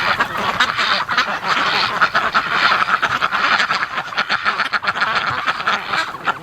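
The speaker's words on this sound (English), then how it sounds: "Crazy ducks." A flock of breeding ducks foraging in the snow quacks nonstop, a dense, overlapping chorus of loud, close calls that carries on steadily throughout.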